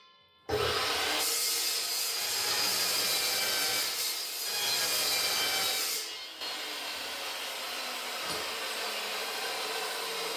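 A saw blade grinds through stainless steel for a welding table, a loud continuous harsh rasping cut that runs about ten seconds with slight dips and surges in pitch, close by and without talking.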